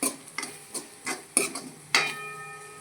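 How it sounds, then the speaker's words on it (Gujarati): A spoon stirring a pigeon pea (tuvar) masala mixture in a pan, five or six separate scraping clinks at a steady rhythm, close and fairly clear with no talk. "આવી રીતે બધું મિક્સ કરી લઈશું"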